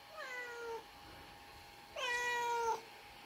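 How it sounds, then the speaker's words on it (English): An injured cat, recovering after fighting with neighbourhood cats, lets out two long, drawn-out plaintive meows separated by a pause, close and clear in a quiet room. "big sad meows"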